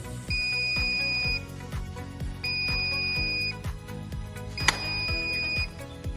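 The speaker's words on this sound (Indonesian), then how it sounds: "Kemudian LED merah menyala dan buzzer diaktifkan." Buzzer of an ESP32-based soil dryness detector sounding in repeated loud electronic beep bursts, each about a second long with short gaps, heard alone over a low repetitive clicking hum.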